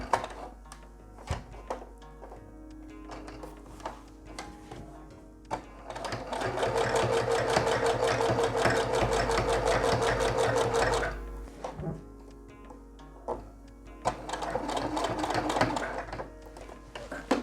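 Sewing machine stitching with thick topstitching thread, running in bursts: a short pass, then a long steady rattling run of about five seconds, a pause, and another run near the end, all close and clear.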